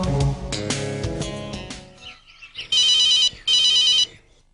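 A phone rings on an outgoing call: a short burst of music, then two bright electronic ring tones, each lasting about a second with a gap between them, clear and close.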